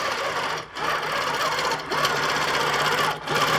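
A sewing machine stitching through a quilt, running loud and continuous close up with a rapid mechanical whir, broken by three brief pauses or dips in speed.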